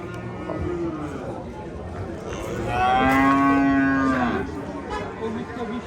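A cow moos loudly and long at a livestock market in Termiz, a drawn-out call rising and falling amid crowd chatter and people talking nearby.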